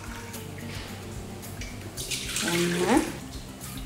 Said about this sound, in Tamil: இப்படி அளந்து ஊற்றிக்குவோம்